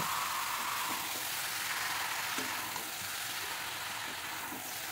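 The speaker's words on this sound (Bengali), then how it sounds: "এঁচোড় দিয়ে আমি ভালো করে মশলাটা এঁচোড়ের সাথে মিশিয়ে নেব" Young jackfruit being mixed with spice masala in a hot pan, a steady moderate sizzle with faint intermittent scrapes of stirring.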